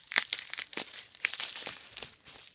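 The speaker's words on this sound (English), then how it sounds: "Our next one, wrapped in bubble wrap" Bubble wrap and tape being peeled and crinkled away from a small wooden peg doll, a close series of sharp crackling rustles and crunches in irregular bursts, no talking.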